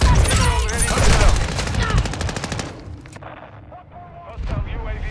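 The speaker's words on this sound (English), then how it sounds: "Friendly mortar strike." Friendly mortar strike in Call of Duty Modern Warfare 2 on PC, with heavy booming blasts and rapid gunfire crackling loudly through dense battle noise as radio-style voices speak over it.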